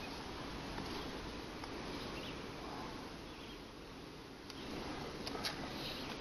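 Honeybees in an apiary hive, battling small hive beetles, make a faint, steady droning buzz that runs the whole time, with a few soft ticks and knocks near the end.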